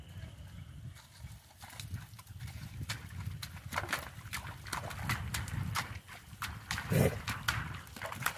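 A four-year-old silver smoke dapple mare walks along a trail with steady, evenly spaced hoof clops against a constant outdoor rustle, a little louder near the end, with no talking over it.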